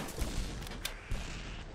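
Robot enemies in the Corridors of Uncertainty video game fire explosive shots, giving a quick series of muffled booms and blasts, moderately loud, spread over a couple of seconds with no talking.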